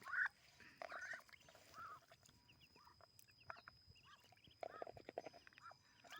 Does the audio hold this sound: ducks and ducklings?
yes